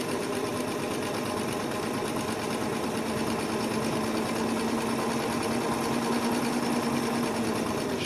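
A sewing machine stitches a hat at a steady, continuous pace, its fast mechanical whir close and even throughout with no talking.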